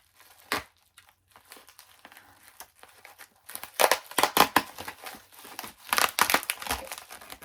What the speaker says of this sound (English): Sometimes people over tape when they send comics. It's very challenging to open.